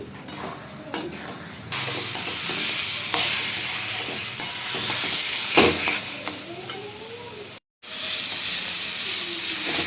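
Carrots and sugar stirred in a frying pan, giving a steady loud sizzle and hiss with scraping strokes throughout and one brief break near the end.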